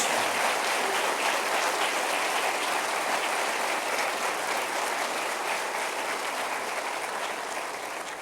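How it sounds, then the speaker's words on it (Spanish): Steady, sustained applause from a crowd, even and continuous throughout, slowly tapering slightly at the end. "Denle un aplauso."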